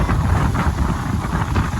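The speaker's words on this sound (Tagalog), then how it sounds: "lakas ng hangin!" Strong wind buffets the microphone in a steady low roar, with gusty rumbling throughout and no voices.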